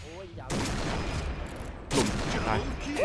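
Bursts of rapid automatic gunfire ring out in a shooting video game, two loud volleys with a short gap between them, while a player talks excitedly over the shots.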